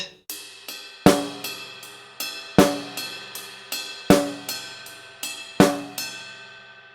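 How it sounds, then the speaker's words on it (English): Steady ride cymbal pattern with a bell accent, joined by a sharp snare hit on every second beat, close and loud. "playing that and also the backbeat on the snare drum on 2 and 4 sounds like this"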